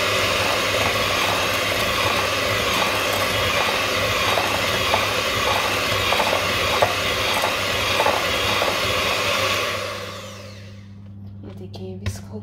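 Melted butter and sugar are whisked by hand in a bowl, giving fast, regular clicking and scraping strokes that run steadily for about ten seconds before stopping.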